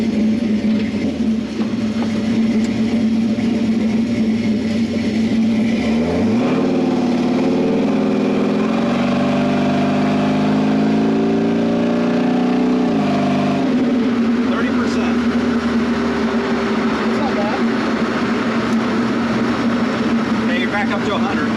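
Engine of a Factory Five 33 Hot Rod idling steadily, then revving up and settling back to idle, loud and close, with people talking over it.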